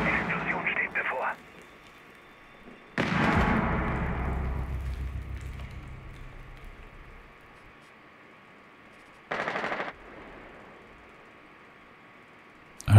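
A loud burst of explosion noise in Rainbow Six Siege hits suddenly and rumbles away over several seconds, followed later by a shorter crackling burst; quiet radio-like chatter opens it.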